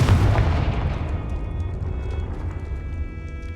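A Confringo blasting spell from Hogwarts Legacy goes off as one loud, close explosive boom that rolls into a long rumbling decay with faint ringing debris.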